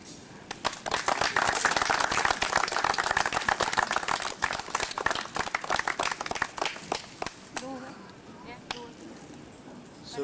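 A congregation claps during the ring exchange at a wedding vow renewal in Negombo, Sri Lanka: steady, rapid clapping from many hands for about seven seconds, thinning out as voices take over.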